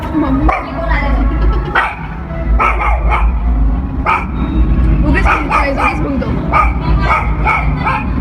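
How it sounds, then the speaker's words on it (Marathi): A dog on a hillside tekdi trail in Pune barks and yips repeatedly in short bursts, close and fairly loud, while people talk over it throughout. "गाईज हा आमचा फेवरेट कुत्रा."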